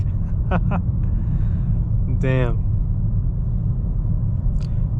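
Heavy road traffic rumbles steadily around a BMW M4 CS, a continuous low wash of engines and tyres with a brief horn-like tone in the middle and a short exclamation from a voice.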